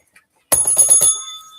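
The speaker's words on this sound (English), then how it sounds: "I will also be periodically ringing the bell" A small bell rings once after near silence, a bright metallic ding with a few quick strikes that fade into a sustained ring, close and clear.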